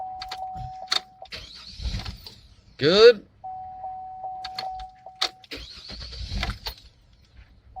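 A 2004 Chevrolet Trailblazer with a newly fitted starter cranks with a brief rising whir and catches, set between repeated dashboard chimes, with someone talking before and after.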